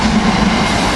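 A commuter train arriving at a station rumbles close by with a low steady roar and a tonal hum, loud and continuous, without any talking.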